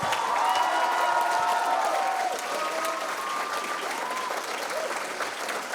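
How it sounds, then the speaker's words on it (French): Warm applause from a school show audience for four teen comedians, a dense, steady wash of many hands clapping close by, with a few voices and cheers rising within it. "que l'on peut applaudir chaleureusement"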